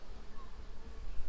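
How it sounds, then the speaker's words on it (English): Bees buzz faintly around a hive box set on a stand, a soft, continuous hum with low rumble beneath. "the bees are now just reorienting to the new location, the height of the box"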